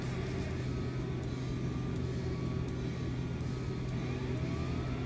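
Twin turboprop engines of a Beechcraft B1900D in X-Plane 11 throttling down on landing: a steady, loud droning roar with a strong low hum and a high whine, unbroken throughout.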